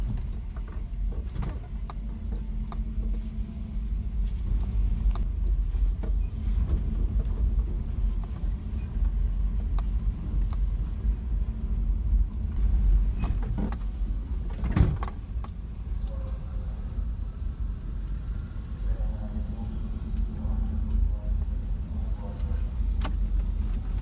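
Interior of a car on the road carrying luggage, a steady low engine and road rumble throughout with occasional clicks and knocks from inside the cabin.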